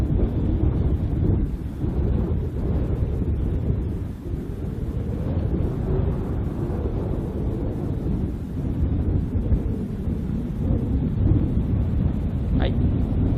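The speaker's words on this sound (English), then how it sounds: "very windy, just like everywhere else in the Keys." Steady, loud wind buffeting the microphone in the Florida Keys, a continuous low rumble with gusty swells and no pauses throughout.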